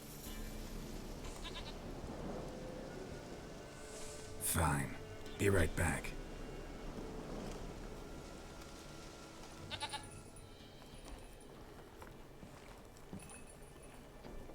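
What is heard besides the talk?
goat bleating in the video game Witcher 3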